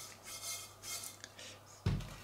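A frying pan is swirled while caramel cooks for an apple-blueberry crumble, giving soft rubbing and sliding sounds followed by one sharp metallic clank near the end.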